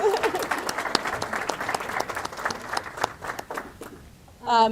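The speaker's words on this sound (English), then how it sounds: "please give a round of applause" Applause fills a room at a youth employment announcement as young people are welcomed, a steady crowd clapping that tapers off before a voice begins speaking at the end.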